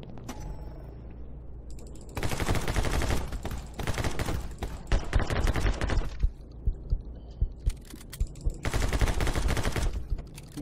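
Game gunfire in My Friend Pedro, loud bursts of rapid shots in two long barrages separated by a quieter stretch of thumping, punchy hits, with game music underneath.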